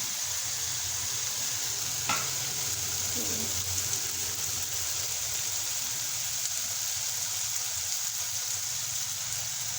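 Masala for a chickpea and potato curry fries in oil, giving a continuous, close sizzle and spatter that runs throughout without a break.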